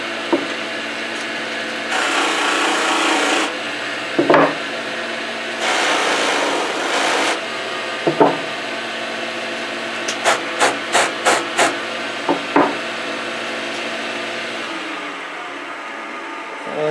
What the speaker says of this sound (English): I'll begin the process of buffing the tamper